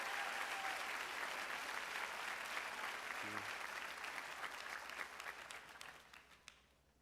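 A commencement audience applauds in a dense, sustained wash of clapping that fills the hall, then thins out and fades toward the end.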